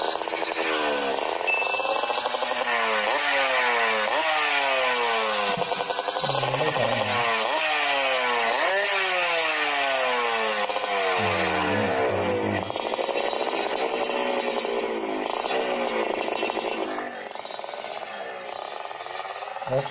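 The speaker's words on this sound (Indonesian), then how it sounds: "buat kalian pecinta motor Eric King tentunya dua tak Eric King suaranya ini lo" A two-stroke motorcycle engine with a tuned exhaust setup revs hard again and again, each throttle blip climbing sharply and then dropping back in a rapid, raspy sawing pattern. It is loud and close before it settles toward idle near the end.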